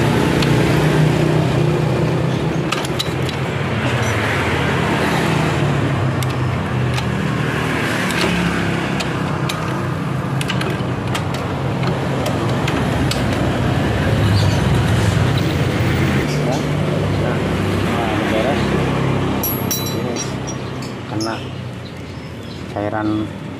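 Yamaha Vega motorcycle with a clutch fault, engine idling steadily near at hand, then shifted into gear as the clutch is released, the running note continuing with little change alongside background noise.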